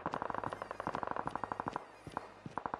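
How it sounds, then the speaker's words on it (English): Rapid automatic gunfire rattles in Call of Duty Mobile, a fast even burst of cracks that breaks off briefly and then resumes in a few shots, compressed and fairly distant, with no voices. "What's the direction of those shots?"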